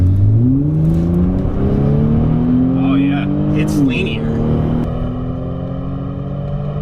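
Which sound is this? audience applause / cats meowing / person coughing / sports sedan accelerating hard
sports sedan accelerating hard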